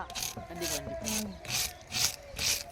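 Scales are scraped off a large fish: about six rhythmic, rasping strokes come in steady succession close by, with a voice partly audible underneath.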